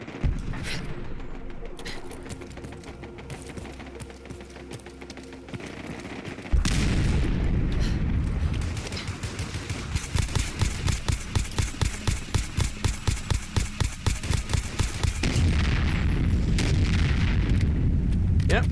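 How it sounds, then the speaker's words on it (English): Video game combat against a sentry bot in Fallout 4: a deep explosion boom, then rapid sustained machine-gun bursts in a steady rattling rhythm, closing with a further blast, loud and close. "Yep, there goes double the explosion."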